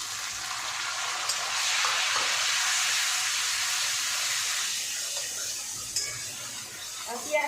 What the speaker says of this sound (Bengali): এবার আমি এই যে পেঁয়াজটা ঘষে রেখেছিলাম এইটা দিয়ে দেবো